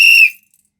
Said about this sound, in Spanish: cuando el perro escuche el silbato